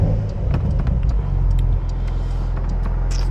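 Porsche 911 992 4S with a 443-horsepower engine and a seven-speed manual, heard from inside while driving as a steady low rumble, loud and close, with faint ticks above it.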